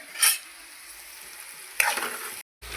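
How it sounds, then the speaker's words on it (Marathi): Chopped onion and curry leaves sautéing in a pan give a close crackling sizzle with bursts of stirring and scraping, loud near the start and again toward the end. "जोपर्यंत कांदा परततो ना तोपर्यंत कढीपत्ता पण छान असा परतला जातो"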